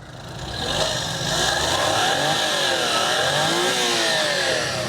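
A turbocharged Japanese kei van engine with a timing chain idles loudly up close, then revs up and holds a steady rough drone with a faint whine.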